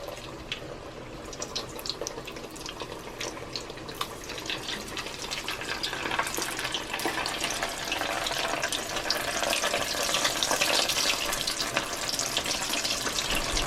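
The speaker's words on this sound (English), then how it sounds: "I'm going to fry my" Steak fries frying in hot oil at about 375 degrees in cast iron, giving a steady, dense crackling sizzle that builds slightly and carries on without pause or voices.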